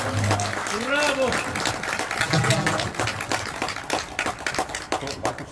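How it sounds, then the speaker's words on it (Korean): A garden concert audience at a hosted dinner event breaks into sustained applause, dense clapping running throughout, with a voice and a bit of music mixed in over the crowd. "다시 한번 큰 박수 부탁드립니다"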